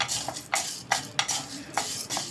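Urad dal frying in hot oil in a pan, heard as a handful of sharp scraping stirs over a light sizzle, close and fairly quiet.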